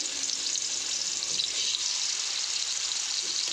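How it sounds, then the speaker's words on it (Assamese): Fish pieces frying in hot oil in a wok, a steady, loud, hissing sizzle that continues evenly without any talking. "ঢেকীয়া ভজা কেৰাহীখনতে তেল গৰম কৰি এতিয়া মাছ কেইপিচ ভাজি লওঁ"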